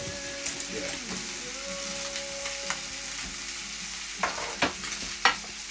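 A rack of lamb sears fat side down in a hot pan, giving a steady close sizzle and crackle throughout, with a few louder spits and pops near the end.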